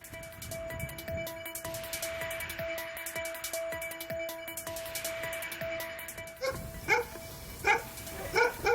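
A dog at the site of a burned-down house gives several sharp barks near the end, after a stretch of steady, thin background sound with no voices.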